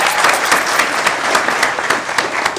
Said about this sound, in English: Give yourselves and us a round of applause